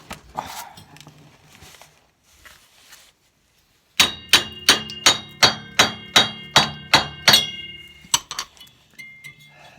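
Metal hammer handled in a workshop while a Toro 265-6 lawn tractor is dismantled, giving a quick run of about a dozen bright, ringing clinks in a steady rhythm, close and loud, after a few quieter shuffles.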